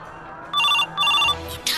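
A telephone rings in two short, bright trilling bursts with a brief gap between them, fairly close and alone.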